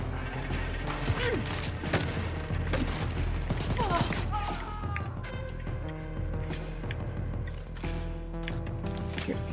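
Gunfire in the shooter Wolfenstein: Youngblood, a dense, continuous clatter of overlapping shots amid busy game noise and music throughout, with a voice speaking briefly.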